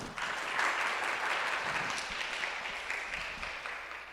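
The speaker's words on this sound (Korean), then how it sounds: "올라오실 때 큰 박수로 환영해 주시면 감사하겠습니다." An audience applauding at an evening lecture seminar as the speaker comes up, a dense steady clapping that swells early and slowly tapers off, with no talking.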